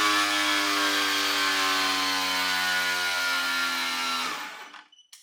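A Ryobi cordless angle grinder powered by a 4 amp hour Edge battery runs at steady high speed with a dense tonal whine, loud and close, then spins down and cuts off near the end.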